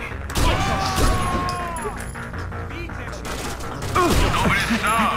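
Gunfire rings out in the tactical shooter Rainbow Six Vegas during a casino assault, with bursts of shots and crashing impacts layered under game music and radio-style squad voices.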